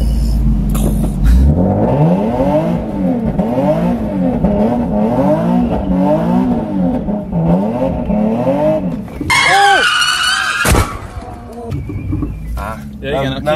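A Nissan 370Z with traction control switched off revs hard in repeated rising and falling engine sweeps, then its tires squeal in a loud skid, with people talking inside the car.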